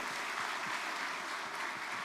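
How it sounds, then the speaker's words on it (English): Steady, fairly quiet applause from an audience at a sports awards ceremony, an even wash of clapping with no voices standing out. "Give her a round of applause for representing her brother"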